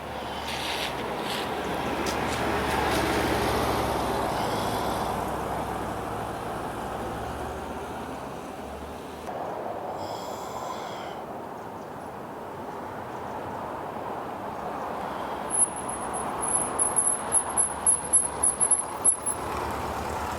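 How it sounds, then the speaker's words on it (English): A 1979 Volkswagen Super Beetle convertible cruises down a freeway, a steady broadband roar of wind and road noise with engine drone, a brief drop partway through and a string of faint ticks and chirps near the end. "This will give you a chance to see this Volkswagen going down the freeway now."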